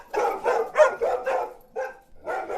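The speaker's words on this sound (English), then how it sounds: "The dogs are barking again" Dogs bark repeatedly in a steady series of medium-pitched barks with short pauses between them, moderately close and clear.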